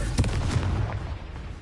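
Hogwarts Legacy Confringo blasting spell firing off in combat: a couple of sharp, booming bursts close together, followed by a fading rumble, no talking.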